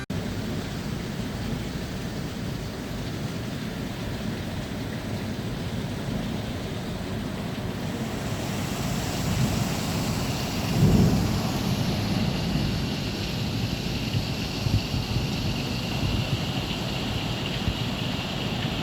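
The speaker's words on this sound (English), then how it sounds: "It has bucketed down for half an hour, flooded everything around the house, gutters overflowing as always." Heavy rain from a thunderstorm pouring down steadily for a long stretch, a dense broadband hiss that swells slightly midway with a brief low rumble, continuous and unbroken.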